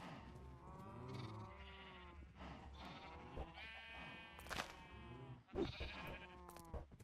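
Minecraft cow in a jar in a modded game, repeated wavering bleat-like animal calls in a string of several bursts, fairly close and clear, with no talking.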